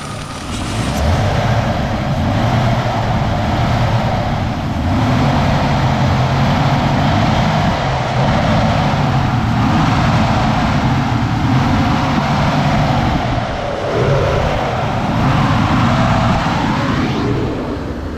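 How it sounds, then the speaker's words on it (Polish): Idling car engine fitted with an LPG gas system, its gas injectors making a steady light clatter over a continuous low engine drone, close and loud throughout with no talk. "wtryskiwacze od gazu. One powodują ten taki klekocik."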